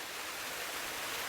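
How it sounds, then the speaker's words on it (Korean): Water cascades down stepped rocks in a mountain stream, a steady, loud, close rushing wash with no break and no voices. "계단식 바위를 타고 쏟아지는 물줄기"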